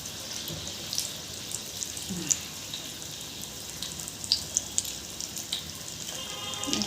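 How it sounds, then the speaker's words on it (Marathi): Colocasia leaf rolls (alu vadi) slipped into hot oil in a kadhai, frying with a soft, continuous hiss and light crackle, fairly faint and steady throughout. "आपल्या आळूवड्या मी त्याच्यात सोडते जेवढ्या कढईमध्ये बसतील तेवढ्याच टाकायच्या आहेत"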